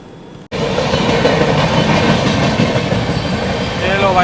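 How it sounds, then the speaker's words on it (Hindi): Telangana Express, running five hours late, rolls into a station: after a brief quiet moment a loud, steady rumble of rail cars and wheels starts and continues, with a faint squeal of wheels near the end. "ये लो भाई साहब, ये आ गई अपनी तेलंगाना एक्सप्रेस।"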